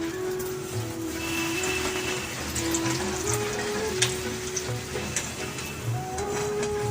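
Dal puri sizzles and crackles in hot oil in a continuous, close frying hiss with scattered pops and a faint steady tone behind it, no one speaking.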